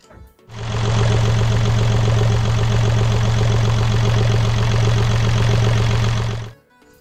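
A sailboat's inboard engine starts, runs after an oil change and then stops, with a steady low droning hum at an even level close by for about six seconds, then quiet.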